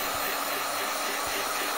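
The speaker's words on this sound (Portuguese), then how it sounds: "mas eu vou usar o secador" Steady, loud hair dryer blowing continuously to dry decoupage on glass, a constant rushing whoosh with no talk over it.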